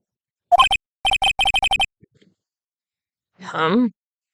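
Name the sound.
dial tone after a hang-up in the video game Phoenix Wright: Ace Attorney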